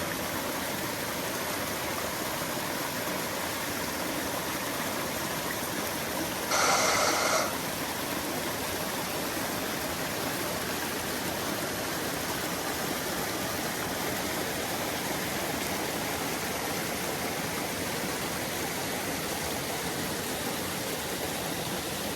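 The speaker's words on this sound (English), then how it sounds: "let's look at this, just water running" Steady broadband rush of running water, like a stream or tap flowing continuously at close range, with a brief brighter splash partway through.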